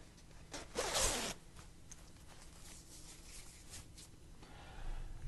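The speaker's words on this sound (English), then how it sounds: "let me zip it up" A clothing zipper pulled up in one quick, loud rasping stroke near the start, followed by quieter rustling and faint handling noises.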